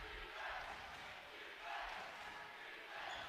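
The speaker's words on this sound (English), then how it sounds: "Crowd starting to get into it for Montgomery." At a boys' basketball game, a crowd cheering for Montgomery rises and falls in broad, distant swells, faint and continuous for a few seconds, with no clear talk.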